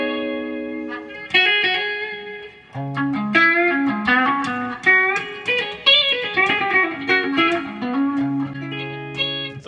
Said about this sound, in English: When you have both pickups on full, you can hear the quack there.